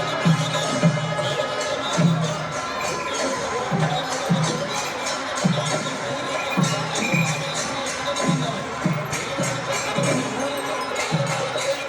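Thousands of devotees at a temple elephant festival in Kollam, with about forty elephants lined up, raise a dense, continuous crowd roar and cheering, over a steady, rhythmic beat of drums throughout.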